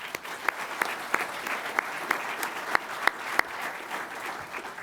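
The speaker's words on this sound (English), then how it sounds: "can we please give our support personnel a round of applause as well?" Audience applause at a pilot training graduation ceremony, a steady wash of clapping from a sizeable crowd with a few sharper individual claps standing out, continuing without any talk.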